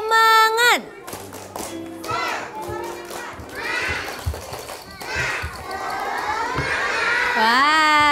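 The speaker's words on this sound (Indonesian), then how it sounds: "Ayo, tepuk semangat." Kindergarten children in a TV studio do the tepuk semangat clapping chant, with bursts of rhythmic group clapping between shouted sung lines, loud and close, led by an adult voice.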